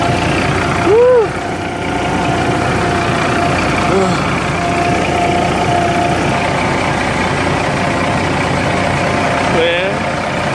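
A Peterbilt 387 truck engine with a new turbo idles with a loud, steady low rumble throughout, with a brief whoop from a voice early on and occasional voices nearby.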